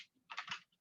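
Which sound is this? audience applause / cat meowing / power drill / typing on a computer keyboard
typing on a computer keyboard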